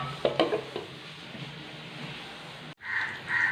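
Chicken being stirred with ground paste in a pan, soft scraping and a quiet sizzle with a few clinks of utensil on metal, close and low, then a short gap before louder scraping resumes.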